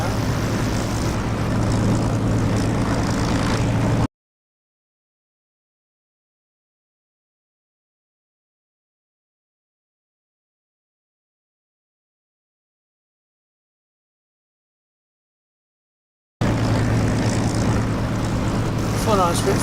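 A Spitfire engine drones steadily in the DCS flight simulator game, a loud continuous propeller roar that cuts out into total silence for about twelve seconds and then resumes.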